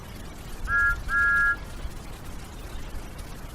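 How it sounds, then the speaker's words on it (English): A storybook train whistle for Gordon sounds as two short, pure tooting blasts in quick succession, the second slightly longer, clear over quiet background. "Thomas heard a whistle."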